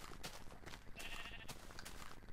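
A sheep bleats in the video game Minecraft, a short wavering call set among light blocky footstep and movement sounds, with no speech over it.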